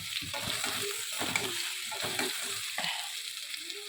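Potato slices frying in a wok, a soft, continuous sizzle broken by repeated scraping stirs of a spatula.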